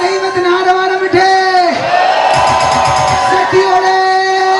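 A congregation at a Christian convention in Haripad raising a loud uproar of praise, with shouts and cheers swelling under a leader's amplified voice and sustained tones from music or singing.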